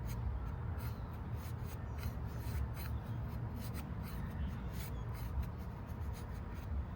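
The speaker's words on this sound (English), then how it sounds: "Not so easy to make feather sticks with this type of wood" An Eafengrow EF149 knife with an N690 steel blade carves feather sticks from wood, making a quiet, continuous scraping rasp of steady strokes close by.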